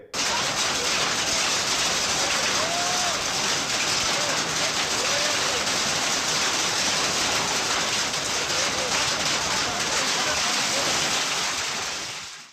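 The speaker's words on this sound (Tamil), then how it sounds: "ஓசூர் சுற்றுப்பகுதிகளிலும் பலத்த காற்றுடன் ஆலங்கட்டி மழை பெய்தது" Hail and rain pelt down in strong wind around Hosur, a dense, loud, continuous roar of pattering and gusting that holds steady throughout before fading at the very end.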